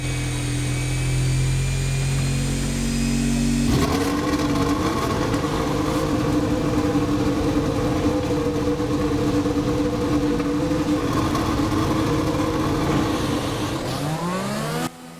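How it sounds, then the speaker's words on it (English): A Mercedes-powered Marduk Motorsport Formula 1 car in the F1 2020 racing game pulls away from a standstill. A loud, steady high-pitched engine whine runs alone and close, with rising pitch sweeps near the end. "off we go in our Mercedes-powered Marduk Motorsport car"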